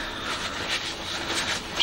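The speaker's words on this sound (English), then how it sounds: "and hoover some of this up" A vacuum cleaner hoovers loose rubbish off a McCulloch M7053D petrol lawnmower under restoration, with a steady, close, breathy suction whoosh throughout.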